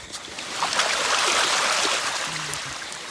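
Rain falling outdoors in a village: a dense, steady wash of drops and patter that swells slightly in the middle, fairly loud and close, with a brief low hum near the end and no voices.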